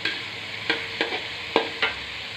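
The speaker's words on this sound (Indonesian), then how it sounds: "Dan setelah bumbunya agak kering, baru kita masukkan terongnya yang tadi kita goreng ya." Fried eggplant being stirred in balado chili paste in a home kitchen, steady sizzling with four distinct scraping stir strokes of a spatula against the pan, close and unaccompanied by voices.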